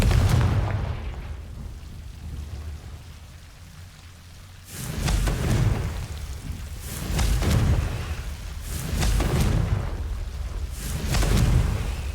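Repeated fiery spell blasts of Confringo in Hogwarts Legacy, a series of rumbling booms in swelling bursts with a low, continuous background bed.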